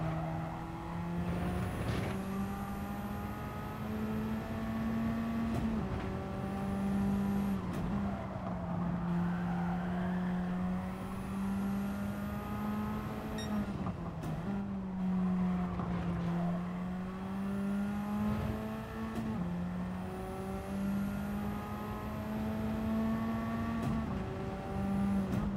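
A car engine in the racing game Gran Turismo 7 drones steadily as the car drives, pitch rising and dipping with throttle and gear changes, with brief tire noise, continuous and moderately loud with no talk.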